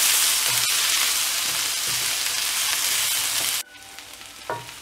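Onions frying in oil for an oily brinjal curry give a loud, close sizzle with soft stirring knocks, then the sizzle drops sharply near the end, leaving a quieter frying hiss and one last scrape.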